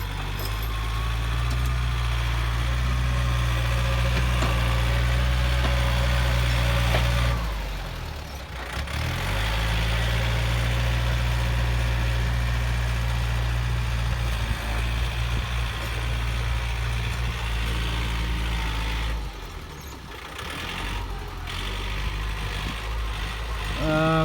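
A Yanmar 51 farm tractor with a disc plow, working hard soil, runs with a steady, loud low throb, and its drone dips briefly twice before settling back to an even rumble.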